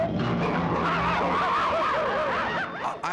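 A cartoon car pulls up with a busy, skidding engine roar and swooping, squealing tones, loud and continuous throughout the short stretch.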